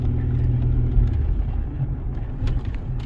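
A 2011 Ford Ranger 4.0 4x4 with 99k miles rolls hard over a divot, its engine rumbling steadily up close while the suspension thumps and rebounds, with no talking.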